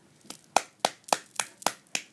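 Sharp claps from a director calling the start of a toy movie, repeated about eight times in a steady rhythm, close and fairly quiet with no talk.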